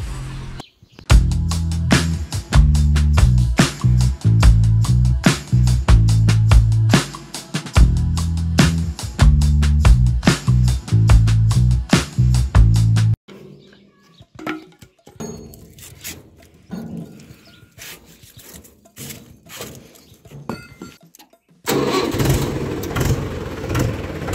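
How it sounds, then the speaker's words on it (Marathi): A tractor engine chugs loudly with a rhythmic, repetitive beat and metallic clinks, then shifts to rougher, irregular running and surging before settling again; no speech is heard. "तर फायनली ट्रॅक्टर चालू झाला आहे"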